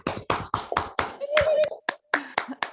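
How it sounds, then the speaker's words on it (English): A few participants on an online call clap through their microphones, sparse separate claps in an uneven rhythm, with a faint voice and a brief tone mixed in. "Unmute yourself and clap if you can."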